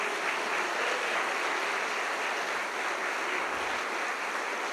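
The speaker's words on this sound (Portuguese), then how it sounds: "Aplaude a Deus por isso" A church congregation applauds during a communion service, a steady dense wash of clapping that holds loud and even throughout without clear individual claps.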